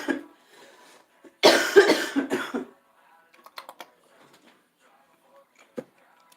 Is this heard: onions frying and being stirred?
no